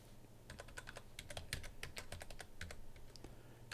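Quick bursts of key clicks on a computer keyboard, close by and fairly quiet, with short pauses between runs of typing.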